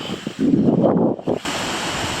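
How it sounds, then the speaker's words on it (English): Spring water at the Cold Springs in Iowa rushes out of the ground, a close, steady, full gurgling wash of flowing water with no voices. "Look at this water coming out."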